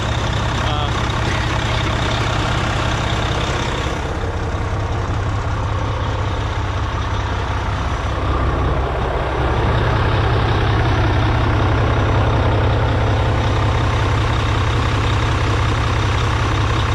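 A Mack Pinnacle CXU613 truck idles smoothly and steadily close by, a constant low diesel rumble with the fan turning slowly, running unbroken throughout with no voices.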